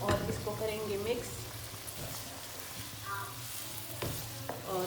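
Salted beef karahi sizzling in a pan while being mixed, with steady frying crackle and occasional scraping strokes of a spoon; a faint voice appears briefly at the start.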